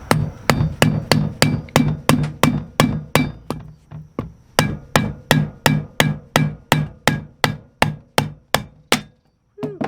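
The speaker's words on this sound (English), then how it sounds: "let me use my snap-on, very expensive tool here to drive that bearing in that seal out of the back side of this hub" Repeated hammer-driven blows from a Snap-on driver knock a wheel bearing and seal out of the back of an RV hub, about twenty-five sharp metallic strikes in a steady close rhythm, with a brief pause near the end.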